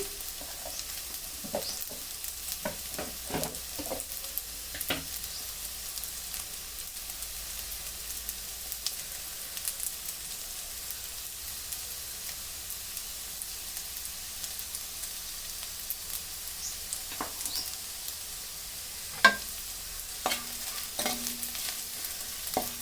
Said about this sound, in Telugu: ఈ శాంతంపుల ముక్కలు ఇలా గోల్డ్ కలర్ వచ్చేదాకా ఫ్రై చేసుకోవాలి.